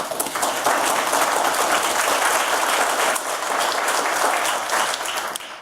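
A lunch-and-learn audience applauds to welcome a speaker to the stage. The clapping is loud, steady and sustained, fading slightly near the end.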